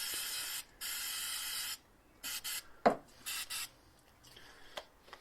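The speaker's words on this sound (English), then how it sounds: "So this is brake cleaner" Brake cleaner sprays in several hissing bursts onto the clutch pedal of a Fiat 500 Convertible during a rebuild, some long and steady, others short, close up with brief pauses and a light knock between.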